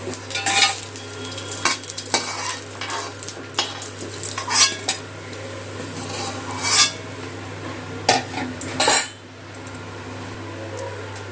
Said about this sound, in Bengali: বাকি মাছটাও এইভাবে ভেজে নেবো